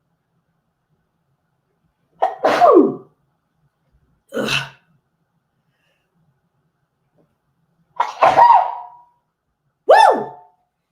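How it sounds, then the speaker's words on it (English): Several sharp, close sneeze-like bursts come one at a time with pauses of quiet between them, alongside a brief vocal exclamation. "now I feel like I have to sneeze."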